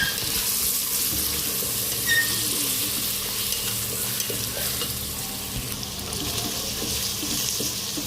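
Green chillies, curry leaves and coriander sauté in a pan for a mint pulao, a steady loud hiss and sizzle filling the whole stretch with faint stirring beneath; no one speaks.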